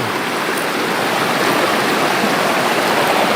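A wide river runs steadily over solid stones, a dense, continuous rushing wash of water close by with no breaks and no voices.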